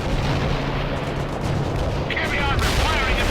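Heavy armor firing amid a World in Conflict battle, a dense, continuous rumble of artillery-like blasts, loud and sustained, with a voice speaking over it partway through.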